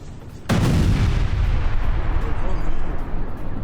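A sudden loud blast from an explosion destroying a building in Sidon, Lebanon, erupts and then rolls on as a sustained, rumbling roar of debris and noise.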